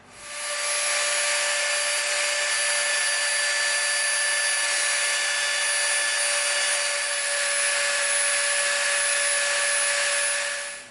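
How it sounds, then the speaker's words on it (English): A Dremel rotary tool rounds the edges of EVA foam, a loud, steady high-pitched whine that runs continuously, close up, before winding down. "Now we're going to come in with our Dremel and we're going to slightly round all the edges off."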